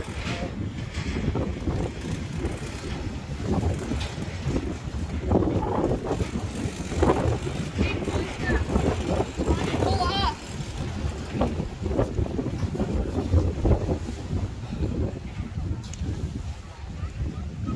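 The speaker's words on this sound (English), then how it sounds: "It's a little bit windy today." Steady wind buffeting a microphone on a fishing pier by the sea, a continuous low rumbling roar throughout, with faint voices and small background sounds beneath it.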